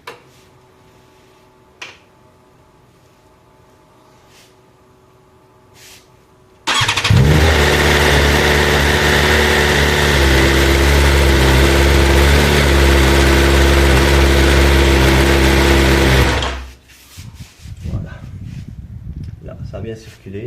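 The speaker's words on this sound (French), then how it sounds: "On allume un coup le moteur." A car engine cranks and fires up with a sudden roar, then idles loudly and steadily for about ten seconds before it is switched off. Quiet workshop sounds and a few clicks come before and after, with voices speaking.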